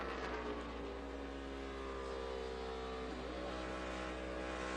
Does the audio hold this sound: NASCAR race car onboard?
yes